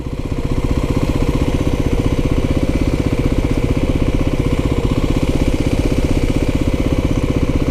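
A 2023 Kawasaki KLX300SM motorcycle, fitted with a new clutch, runs loud and close with a steady, even single-cylinder thrum that holds at a constant pace throughout.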